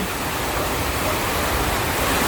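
Water rushes steadily in a broad, even roar, a creek swollen by a flash flood flowing hard nearby, with no voices.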